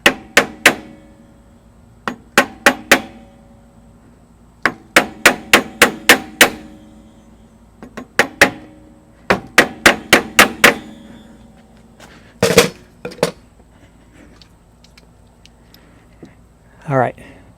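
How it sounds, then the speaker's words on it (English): A long piece of wood taps the AC compressor clutch of a GM OBS Chevy truck with an HT6 compressor around its center ring. The sharp, loud knocks come in quick bursts of three to five, separated by short pauses. "we're just kind of tippy-tapping it on with this long piece of wood"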